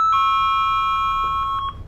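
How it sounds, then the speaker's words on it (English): A doorbell rings with a loud, close electronic tone held for nearly two seconds, fluttering with quick repeated pulses before it cuts off. No one speaks over it. "Ding dong."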